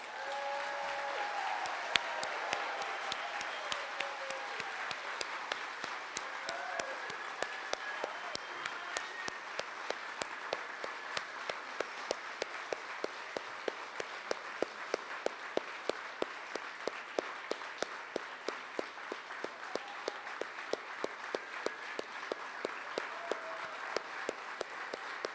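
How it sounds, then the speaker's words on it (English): Prolonged audience applause at a nursing pinning ceremony, continuous crowd clapping with a slow, regular rhythmic clap running through it, fairly distant and steady throughout. "let them give you a big round of applause"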